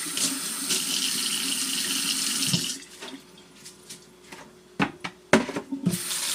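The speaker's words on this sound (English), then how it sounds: "So I'm going to rinse my fish." Tap water runs steadily into a sink to rinse mackerel, then stops, followed by scattered splashes, knocks and handling sounds close by.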